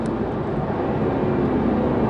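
Supercharged 600 PS Jaguar Project 8 engine pulling hard on a race track, a dense, continuous roar heard from inside the car, steady and loud throughout the short moment.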